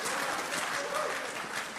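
Audience applause at an economists' gathering at the 2009 PEN World Voices Festival: a dense, steady wash of clapping for just under two seconds, with voices mixed in.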